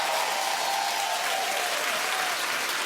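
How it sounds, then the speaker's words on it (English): Studio audience applause on a daytime talk show, loud and dense, a sustained roar of many hands clapping evenly from start to finish with no talk over it. "Keep clapping"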